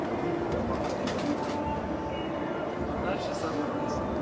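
Pigeons coo among the birds kept by a pigeon fancier, heard through steady background noise with people talking over them throughout.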